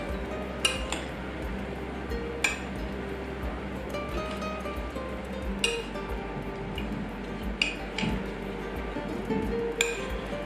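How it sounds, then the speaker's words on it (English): Fruit salad mixed in a bowl, a quiet background rumble punctuated by about eight sharp clinks and taps of a utensil against the bowl at irregular intervals. "And then just give it a little mix."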